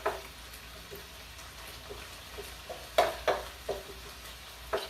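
Meat fries in an electric skillet set to 350, giving quiet, intermittent sizzles and soft pops over a low background hiss, with a few sharper crackles near the end.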